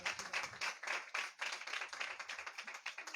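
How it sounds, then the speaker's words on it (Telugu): An audience claps in a quick, fairly dense burst lasting a few seconds, heard at a moderate distance and fairly faint. "గట్టిగా చప్పట్లు కొట్టి, చప్పట్లు గట్టిగా"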